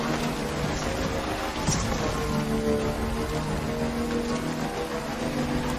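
Heavy rain in Death Stranding, a steady dense hiss of downpour under low tonal background music, even and continuous with no talk.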